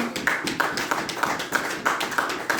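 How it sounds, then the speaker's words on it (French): A church congregation at a Sunday evangelical service claps steadily in rhythm, roughly three claps per second, with a full, reverberant sound and no talking. "applaudissez le Seigneur, alléluia"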